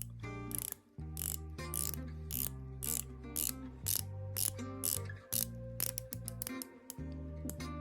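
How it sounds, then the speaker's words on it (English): A polished blue Squale 1521 50 Atmos dive watch has its 120-click bezel turned by hand, producing crisp, close ratcheting clicks in quick bursts separated by brief pauses, with no speech. "Watch features a 120 click bezel. Put that up so you could hear that"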